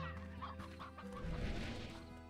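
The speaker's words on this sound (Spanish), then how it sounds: "Y aquí hay una gallina." A chicken in the video game Slime Rancher clucks in a short run of quick, close clucks over a low background hum of game ambience.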